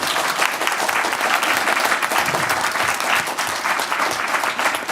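Conference audience in Montreal applauding the panel speakers after a session on homelessness prevention for seniors, a loud, dense and continuous burst of clapping with no speech over it.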